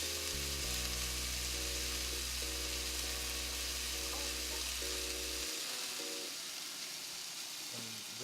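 Onions sizzle and fry in a pan as they are gently stirred, a steady hiss beneath a low droning hum and intermittent tonal sounds, with no talking.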